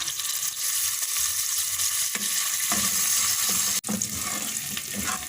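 Nuts for makhandi halwa fry in hot oil or ghee, giving a steady, dense sizzle close by with a few faint clinks of a stirring spoon, continuous throughout without talk.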